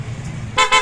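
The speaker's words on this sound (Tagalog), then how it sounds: "Lakas ng busina kasi naka-open pa." Two short, loud honks from the horn of a Kymco Dollar scooter, open and not yet enclosed, each blast bright and brassy and close, following a low idling rumble.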